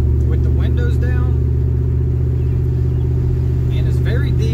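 Deep, steady rumble of a RAM truck's 5.7 HEMI V8 through Thrush Rattler mufflers with the windows down, heard from inside the cab, loud and constant, with someone talking over it.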